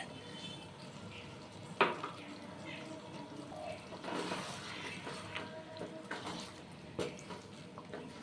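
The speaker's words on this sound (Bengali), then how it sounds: "দিয়ে দিলাম হাফ কাপ ভিনেগার" Half a cup of vinegar pours into chalta (elephant apple) pickle cooking on the stove, a soft liquid splash and trickle over a low steady background hiss with a sharper clink early on.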